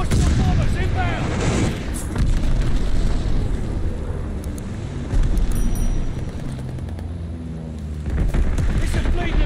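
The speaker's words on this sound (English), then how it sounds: "Enemy glide bomb incoming." Dense, continuous rumbling blasts and booming explosions in a Call of Duty Vanguard match on the Oasis map, a glide bomb going off amid heavy gunfire, loud and sustained with surging waves throughout.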